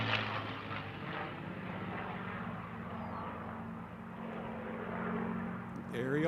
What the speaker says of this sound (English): Ariel Ludi will be in with the P-51 he calls a Little Witch